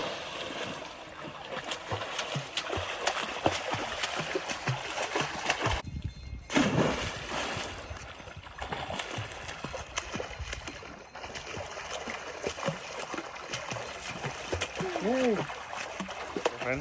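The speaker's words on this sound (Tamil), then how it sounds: "மேட்டூர்லேருந்து தண்ணி வருது" River water flowing down from Mettur at Poolampatti rushes and splashes in a steady wash with a few sharper splashes, and people talk over it throughout.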